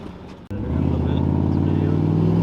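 LS-swapped G-body car engine roars up after a brief pause, settling into a loud, steady revving drone while driving, held close throughout.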